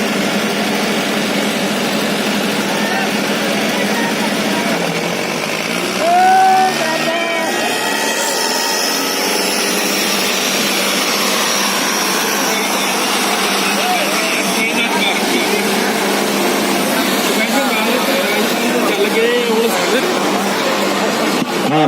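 Engines of an Arjun 605 DI and a John Deere 5050 D tractor in a tug-of-war contest drone heavily and continuously, their pitch rising and falling under strain as people talk loudly over them.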